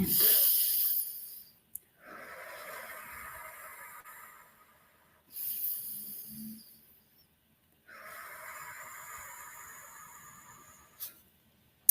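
Slow, deep breathing for cardiac coherence, long airy inhales and exhales in a calm, even rhythm, close to the microphone with quiet pauses between breaths.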